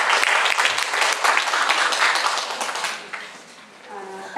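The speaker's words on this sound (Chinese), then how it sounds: "掌声鼓励。" An audience at a formal gathering welcoming guests claps in a dense, lively burst for about three seconds before it thins and fades away, and a voice begins speaking at the very end.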